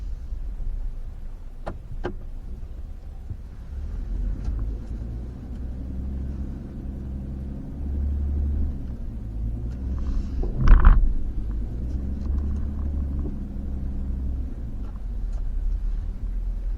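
A pickup truck rolls slowly into a campsite with a steady low engine rumble throughout and a brief clunk near the middle.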